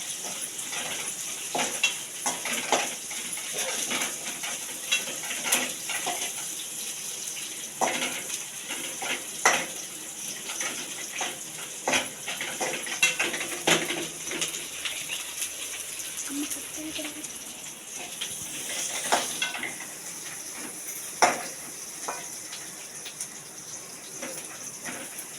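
Onions sautéing in a pan, with soft sizzling broken by frequent scrapes and clinks of a utensil against metal as they are stirred. The sounds stay steady and moderately close.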